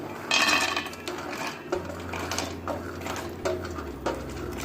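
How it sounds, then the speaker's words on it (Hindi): Cashews are tipped into a frying pan while making panjiri, producing a burst of clattering rattles followed by lighter scraping and knocking as they shift in the pan. "तो अपने काजू भी फ्राई कर लेते हैं। तो हम अपने काजू डाल लेंगे"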